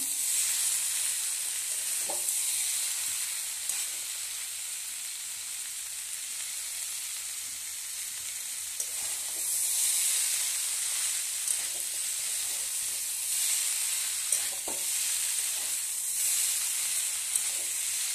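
Food sautéing in a hot pan, a spiced dish being stirred down for eating with hot rotis, giving a steady bright sizzle and hiss throughout with occasional scrapes and stirring clicks, close and continuous, no voices.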